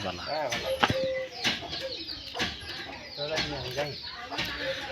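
A male white-breasted waterhen's loud, repeated calls ring out close by in rhythmic bursts, with a person talking in between.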